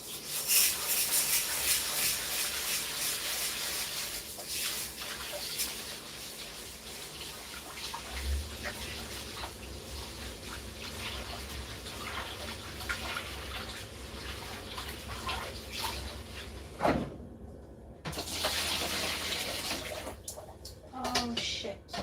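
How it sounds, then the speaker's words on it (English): Tap water runs and splashes while rice is washed in a sink, a continuous wet rush with rubbing and handling noises, faint and close, briefly cut off before resuming. "Alright, so we're gonna keep washing our rice."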